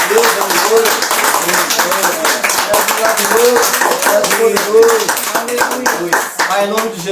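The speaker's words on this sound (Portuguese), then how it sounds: "Uma salva de palmas para essa palavra." A church congregation claps together in a steady burst of applause, with overlapping hand claps filling the room and voices calling out over the clapping throughout.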